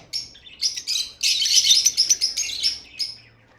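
A blue Fischer's lovebird breeder pair chirps in quick, bright bursts, the tweets coming close and clear in dense clusters with short gaps between them.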